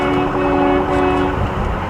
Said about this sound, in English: There we got sirens going.